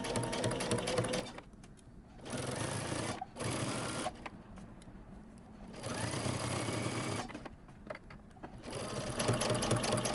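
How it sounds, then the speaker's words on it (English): A sewing machine stitches a knit top seam in several short bursts of fast mechanical whirring, broken by quiet pauses, fairly soft and close by. "I'm going to place my needle right there where the corner is, where my stitching stops, and I'm going to back stitch at the beginning and the end."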